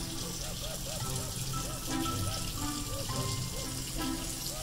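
Water runs steadily from a household faucet into a sink, a continuous close splashing rush with repeated small bubbling gurgles and faint clicks from a baby toucan playing in the stream.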